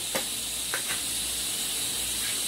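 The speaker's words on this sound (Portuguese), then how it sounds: "eu já pego aqui um pouco de alho, coloco com um pouquinho de manteiga e para refogar esse molhinho aqui" Garlic sizzling in butter in a hot pan, a steady soft hiss with a few brief crackling pops near the start, no voices.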